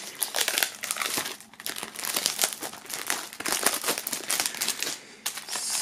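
Plastic shrink wrap being peeled and torn off a CD digipak, with close, continuous crinkling and crackling in irregular bursts.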